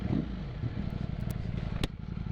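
A 2020 Ducati Streetfighter V4 motorcycle rumbles nearby in a city street with a deep, steady low engine throb, broken by a few brief sharp clicks and clatters.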